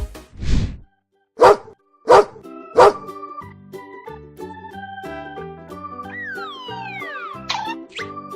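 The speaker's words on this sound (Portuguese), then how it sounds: "Cachorro." A domestic dog on a farm gives three sharp, loud barks in quick succession after an opening vocal sound, followed by a stretch of music-like tones.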